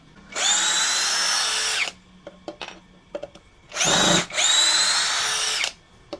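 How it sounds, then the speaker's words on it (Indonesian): A Gtools GT34+ cordless impact drill whines loudly in three bursts, the first long, then two close together after a pause with light tapping and clicks. "Jadi bor multifungsi."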